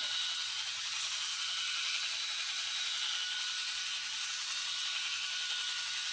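A Bald Eagle Smart electric head shaver with small flexing blade heads runs steadily, giving a constant high-pitched whir with no pauses or talking.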